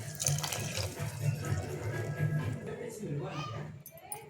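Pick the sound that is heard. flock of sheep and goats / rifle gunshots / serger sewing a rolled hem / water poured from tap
water poured from tap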